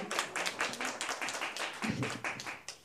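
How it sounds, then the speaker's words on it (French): A small audience claps in a loose, uneven rhythm at a therapy-related event, with individual hand claps clearly distinct and close, fairly quiet overall. "je propose d'ailleurs qu'on applaudisse tous"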